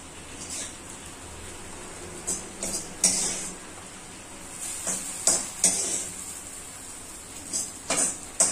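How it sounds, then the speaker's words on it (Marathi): Fried mushrooms being stirred into a gravy base in a pan for a rustic Maharashtrian mushroom gravy: soft sizzling under irregular spoon scrapes and knocks, close and fairly quiet, with no talking. "आता मी त्याच्यात हे मशरूम्स जे मी फ्राय करून घेतलेले ते ऍड करते आहे आणि आपण पटापट आता बाकीचे सगळे साहित्य याच्यात मिक्स करणार आहोत"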